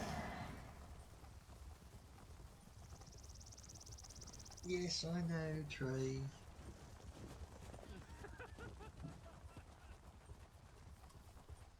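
Horse hooves clip-clop at a steady gallop in the Elder Scrolls Online game, set in Cyrodiil, running faint under crickets and a brief whinny, with people talking over them.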